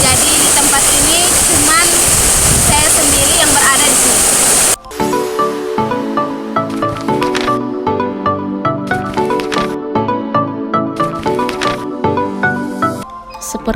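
Mataru waterfall rushing as a loud, dense roar for about five seconds, then cut off and replaced by plucked string music.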